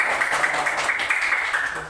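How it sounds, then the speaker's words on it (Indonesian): Schoolchildren in a fifth-grade classroom clap for a classmate, a steady, fairly even patter of many hands that keeps going throughout. "tepuk tangan dulu buat temannya"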